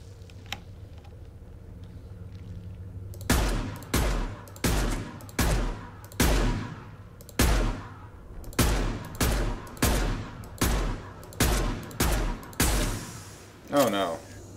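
Gunfire from the video game Mass Effect 2: about a dozen loud, close, evenly spaced shots land in a steady rhythm after a quieter opening.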